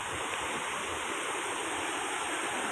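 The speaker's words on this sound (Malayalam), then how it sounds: "നല്ല ഒഴുക്കാണ്, അടിപൊളി ഒഴുക്കുണ്ട്" Fast-flowing water rushes over rocks at Parathodu waterfall, a dense, constant roar that stays close and loud throughout with no voices over it.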